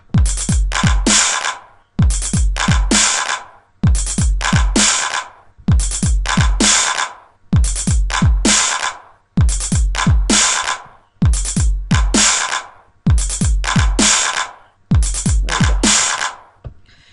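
An electronic drum loop made in FL Studio 10 repeats a short punchy pattern about nine times, with deep thuds and crisp percussion hits, the snare pitched all the way down, no voices.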